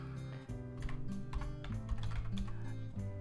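Keys clatter on a computer keyboard as text on ready-made buttons is edited, a quick irregular run of close clicks with no voices.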